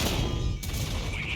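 Heavy tank cannon fire in a World of Tanks match involving the Conqueror Gun Carriage, a dense rumbling barrage with one sharp crack in the middle amid continuous battle noise.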